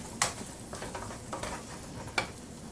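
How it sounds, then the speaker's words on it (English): Onions sauteing in a pan for a quick tomato pasta, a soft steady sizzle with faint stirring scrapes and a few sharp clicks of utensil against pan, fairly quiet and without talk. "I'll let this onions saute for 2 to 3 minutes"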